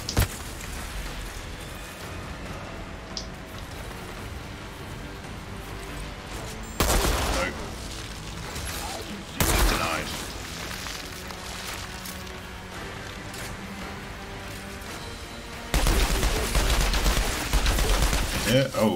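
Dense gunfire from the shooter video game Outriders rattles in continuous volleys, with several louder blasts and bursts standing out above a constant noisy backdrop of game sound.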